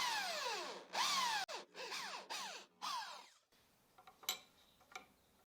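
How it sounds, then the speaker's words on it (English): A hand drill fitted with a 15mm Forstner bit bores a cavity into wood, firing in several short whining bursts that spin down, followed by a few faint clicks and knocks. "I'll use a hand drill with a 15mm Forstner bit to create a cavity at this point."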